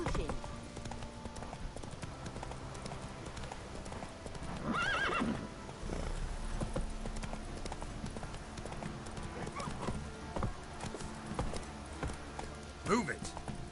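Horse hooves clip-clop at a steady gallop in the video game Witcher 3, with a loud whinny rising midway and someone speaking over the hoofbeats.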